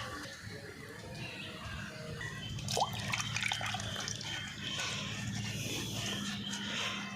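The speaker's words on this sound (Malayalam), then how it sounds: "നല്ല വൃത്തിയായിട്ട് തേച്ച് കഴുകിയെടുക്കാം" Sweet potatoes are scrubbed and washed in a vessel of water, giving soft sloshing, dripping and trickling sounds close by, with a slightly busier splash of handling midway.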